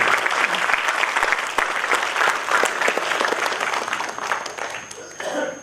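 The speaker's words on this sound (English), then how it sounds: "Can we have a loud round of applause for everybody who spoke on stage" Loud, dense applause from a Toastmasters meeting audience, clapping for everyone who spoke on stage, sustained for several seconds before easing off near the end.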